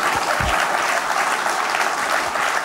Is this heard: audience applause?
yes